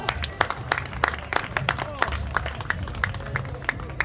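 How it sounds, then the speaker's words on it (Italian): Crowd applause at an Italian charity gala evening with artists and dancing, steady clapping from many hands through the whole stretch, moderately loud with a low murmur of voices underneath. "Un applauso ancora."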